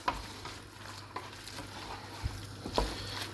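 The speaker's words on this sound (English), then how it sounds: "Now you want to stir this around for a couple of minutes on a medium heat, just heating the pork through" Pork pieces get stirred around a pan with a tablespoon of oyster sauce over medium heat for a Thai pork and pineapple red curry, a soft, quiet sizzle with occasional scraping utensil clicks and knocks.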